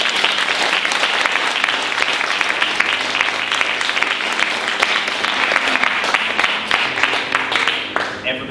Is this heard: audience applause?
yes